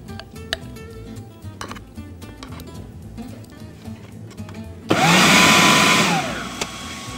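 A blender whirs loudly as it purees soaked yellow lentils. The motor starts abruptly after some quieter kitchen clatter, runs as a dense roar for about a second and a half, then eases off a little.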